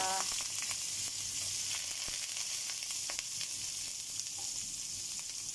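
Ginger sautéing in a hot pan gives a steady, close sizzle and frying crackle that holds for the whole stretch, with no one talking.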